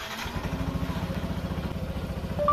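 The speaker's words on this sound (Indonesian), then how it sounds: "Oke, motor akan dihidupkan." A Yamaha NMAX scooter engine starts by keyless voice command and idles nearby with a rapid, even putter and a light mechanical clatter.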